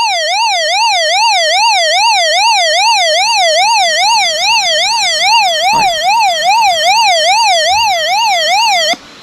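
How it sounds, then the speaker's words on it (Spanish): A survival radio's emergency alarm siren wails loud and close, rising and falling in quick, regular cycles for about nine seconds, then cuts off abruptly. "una alarma de emergencia por si nos perdemos"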